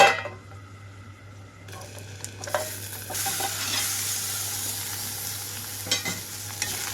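Mint leaves fry in oil in a covered pan, giving a steady soft sizzle with a few faint stirring clicks and scrapes, heard alone without voices.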